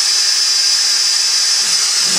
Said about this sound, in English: I'm going through the front with my drilling